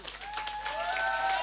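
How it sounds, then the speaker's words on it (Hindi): A crowd at a business achievement event breaks into applause, a continuous wash of clapping that swells slightly, with voices mixed in underneath. "जोरदार ताली"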